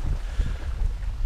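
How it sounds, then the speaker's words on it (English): Strong wind gusting outdoors beside a creek on an overcast day, a steady low rumble of buffeting against the microphone with no voices. "It's very windy, very overcast."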